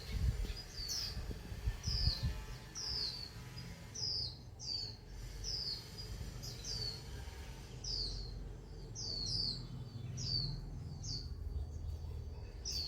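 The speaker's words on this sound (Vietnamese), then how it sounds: "Toàn nghề chim hót tự nhiên rất nhiều luôn." Natural birdsong in the countryside: one bird repeats short bright chirping phrases at a steady pace, fairly close, over a low rural background hum.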